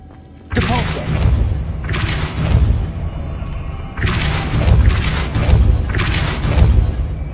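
Repeated casts of the Depulso force spell in Hogwarts Legacy land as heavy whooshing thuds, four loud bursts a second or two apart, each with a low boom, close and full over a faint game background.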